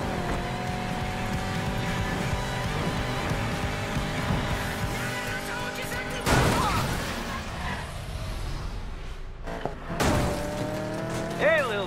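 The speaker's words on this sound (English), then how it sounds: "Better hurry, engines are revving." Race car engines roar and rev in the Need for Speed Payback racing game. A loud, sustained engine drone is broken by sharp surges and squealing tires.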